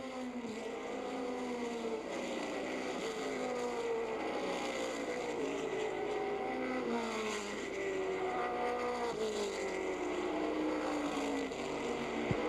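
Race car engines roar and whine continuously, pitches rising and falling as cars pass, with a steady dense background of track noise.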